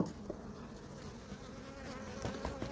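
Honey bees buzz steadily and close by during a spring hive inspection, a dense humming swarm with occasional louder passes of individual bees and faint handling sounds.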